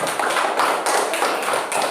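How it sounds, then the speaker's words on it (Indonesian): A classroom group applauds, a short burst of brisk, even clapping from several students nearby with no talk over it. "tepuk tangan dulu, Bang"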